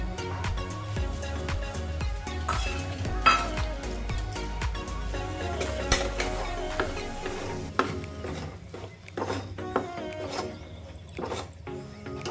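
Food fries in a pan while being stirred, with a low sizzle under repeated clinks and scrapes of a spoon against the pan, close-up, with clattering strokes in an uneven rhythm.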